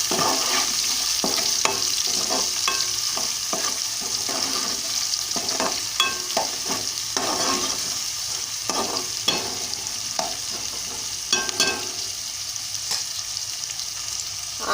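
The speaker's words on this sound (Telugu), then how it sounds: "ఉల్లిపాయలు వేగుతున్నాయి." Onions fry in a pan for a Telugu-style okra and tomato curry, giving a steady, even sizzle with frequent clicks and scrapes of a stirring utensil throughout, and no voices.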